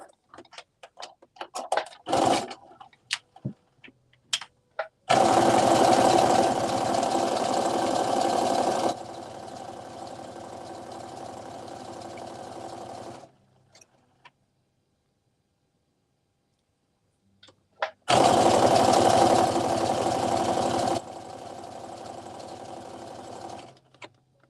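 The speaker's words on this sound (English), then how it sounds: "Stitch the length of the band." A sewing machine runs in two long stitching bursts along the band of a sweatshirt top, buzzing steadily and loud, then slowing, with short pauses and faint handling clicks between runs.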